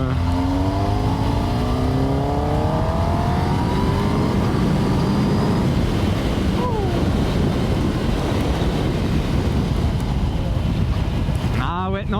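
A Kawasaki Ninja ZX10R sport motorcycle engine revs while riding, rising and falling pitched engine tones under heavy wind roar, with a sharp rev climb near the end.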